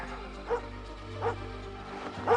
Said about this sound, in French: Il est en train d'aboyer.